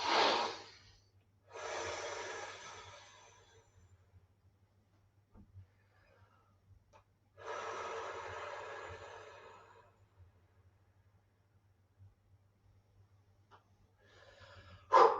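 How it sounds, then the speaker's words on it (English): A person in a shiatsu and energy-work class breathes slowly and audibly in and out while stretching, three long airy breaths separated by quiet pauses. "Breathing in, breathing out, and stretching backwards."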